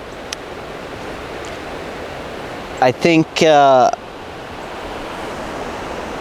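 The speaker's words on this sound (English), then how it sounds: "I just can't beat the sound of the water" Creek water flowing outdoors, a steady broadband rush close by that runs throughout, briefly overlaid by a voice speaking a few words near the middle.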